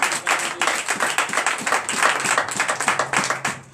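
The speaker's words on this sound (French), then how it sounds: "Donnez encore plus d'acclamation à notre Seigneur Jésus." Worshippers at a Sunday church service in Benin clap together in acclamation, a fast, rhythmic, fairly loud patter of hands sustained through the short stretch.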